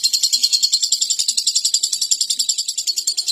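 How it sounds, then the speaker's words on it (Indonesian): A lovebird chirps in rapid, continuous high-pitched trills, loud and close with a steady pulsing rhythm and no talk. "Burung lovebird."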